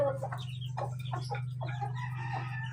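Chickens cluck in short, irregular bursts while eating feed in a village yard, with a steady low hum running underneath.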